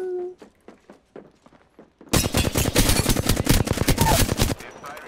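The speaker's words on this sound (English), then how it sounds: "Birno missing every bullet in his gun" Rapid automatic gunfire from Apex Legends fires one dense, loud burst of evenly spaced shots lasting over two seconds, after a quieter stretch of faint, scattered clicks and taps.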